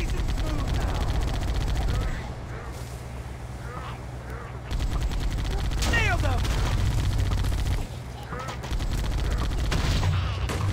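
Rapid weapon fire in the video game Halo crackles in dense bursts through much of the clip, mixed with game effects and sections that shift in loudness, while a player talks over it.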